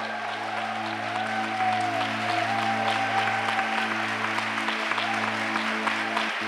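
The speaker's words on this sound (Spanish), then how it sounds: "Dele un aplauso a Dios." Steady, dense applause from a church congregation during a worship service, filling the room at an even level throughout, with a sustained organ or keyboard chord droning underneath.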